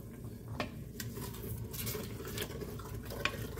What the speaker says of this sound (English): And let me just stir all this together.